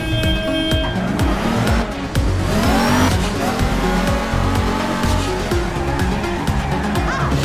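Cars in the video game APB Reloaded drive hard with constant engine roar and repeated screeching tire squeals, loud and steady throughout the stretch.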